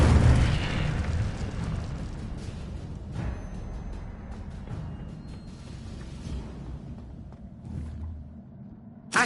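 An Incendio fire spell blast from the video game Hogwarts Legacy: a loud burst that rolls into a sustained roaring, crackling rumble, fading slightly toward the end with a sharp pop at the close.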